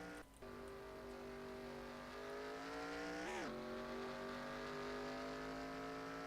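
Race cars in a racing video game drone with a steady engine tone that climbs gradually, a short burst about halfway through as a car shifts or passes, with no talking.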